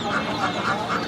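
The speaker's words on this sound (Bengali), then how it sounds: "এখানে সব ধরনের হাঁস মুরগি পাবেন।" Ducks quack in quick repeated bursts at a duck and chicken poultry market in Nayabati, Khulna, loud and close over a busy background hum.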